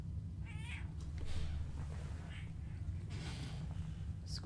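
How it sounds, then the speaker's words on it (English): A house cat meows a few times, small squeaky high calls spaced across a low steady background hum, fairly close but not loud. "Squeaky kitty."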